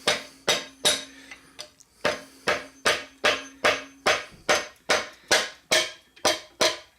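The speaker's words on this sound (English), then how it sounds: "tap around the outside of the bearing as close to the machine body as you can" A hammer taps repeatedly around the outer race of a bearing on a machine body while the main shaft is being removed. Sharp, evenly spaced metallic knocks sound about twice a second, near and alone, with a brief pause midway.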